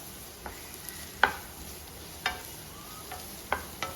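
Sliced onions sautéing in a pan for Kerala-style chilli chammanthi: a faint, even sizzle broken by a few sharp spatula taps and scrapes at irregular intervals.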